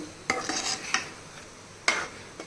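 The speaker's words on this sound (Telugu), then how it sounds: "దీన్ని ఒకటి రెండు సార్లు ఇట్లా కలుపుకొని" Cooked moong dal stirred in a pot with a spoon, a few sharp scraping clinks against the metal spaced apart over a faint background hiss.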